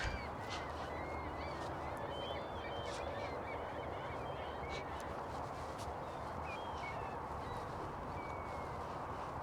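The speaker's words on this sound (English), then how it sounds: "Lots of waterfowl on this side too." Mixed waterfowl, including geese and mergansers, call in a steady chorus on open water, with honks and chatter carrying from a middle distance over constant background noise.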